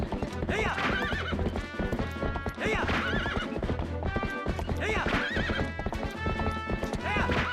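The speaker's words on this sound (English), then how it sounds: "now we're going to be riding the horse to the Castletown entrance" Steady clip-clop of galloping horse hooves with an occasional whinny in The Legend of Zelda: Twilight Princess, set against continuous game music, loud and constant throughout.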